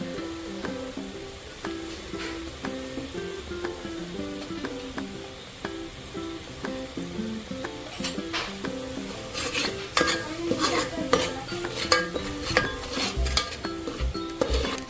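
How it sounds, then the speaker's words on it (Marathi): Masala of coriander powder, cumin powder, garam masala, onion-garlic masala and chicken masala sautés in oil for Marathi chicken rassa, a steady close sizzle with repeated spoon scrapes and clinks against the pan that grow busier and louder midway. "तर मसाला तेल सुटोपर्यंत मी परतून घेणार आहे"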